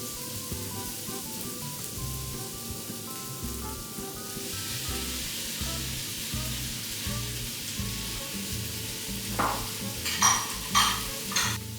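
Onions cook down in a hot pan for a tofu and soba noodle stir fry, a continuous close sizzle with scraping stirs, ending in a few louder clatters near the end, no talking.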